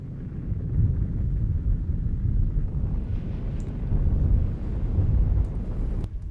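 Layered sound design of a natural-disaster earthquake rumble mixed with atomic bomb blasts, a dense, continuous low roar that stays loud and steady throughout with faint higher debris hiss on top, no voices.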